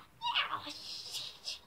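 A human voice imitates an angry cat's drawn-out meow, rising and wavering in a short yowl of under two seconds.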